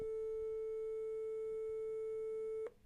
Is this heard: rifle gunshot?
no